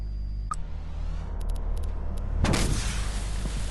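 Grenade explosions in the co-op horror video game Content Warning: a sharp blast near the start, then a second, louder broadband explosion that swells and rumbles for over a second against a low steady background.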